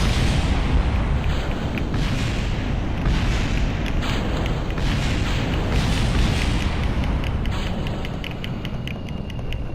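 A swarm of small bombs from a heavy bomber explodes in Kerbal Space Program, making a dense, continuous rumble of overlapping blasts that stays loud throughout with no pauses.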